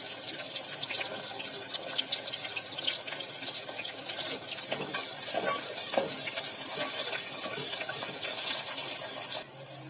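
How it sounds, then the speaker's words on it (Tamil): Chopped large onion sautés in a pan for a chicken curry, making a continuous close sizzling hiss with stirring scrapes that drops off abruptly just before the end. "அதையும் நல்லா வதக்கிக்கலாம்."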